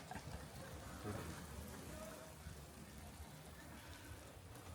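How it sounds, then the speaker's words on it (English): Rain pouring down heavily in Morocco, a faint, steady hiss of drops on surfaces continuing throughout with no clear voice on top. "it's pouring down"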